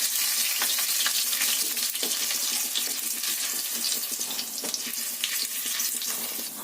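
A little onion fries in a small amount of oil, sizzling steadily up close while repeated stirring scrapes and clicks cut through the hiss.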